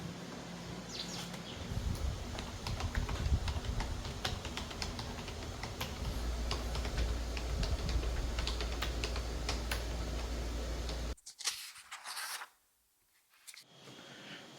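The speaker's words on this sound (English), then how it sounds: "The keyboard is quiet." Rapid typing on an A4Tech FBK30 compact quiet wireless keyboard: soft, dense clicks at close range, continuing steadily before stopping abruptly, followed by near silence and faint room noise.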